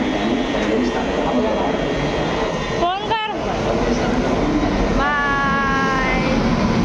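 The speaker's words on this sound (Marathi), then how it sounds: "गेली ट्रेन. झुक झुक झुक झुक गेली." A train pulls out of a station with a steady, broad rumble and a brief rising screech partway through, while nearby voices chat over the noise.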